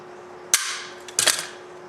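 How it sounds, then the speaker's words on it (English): A hand rivet gun snaps twice while setting a rivet during throttle positioner work on a Porsche 914, two sharp metallic cracks about 0.7 seconds apart, close and loud over a steady faint hum. "Let's put our rivet gun on it. Slowly crank it down."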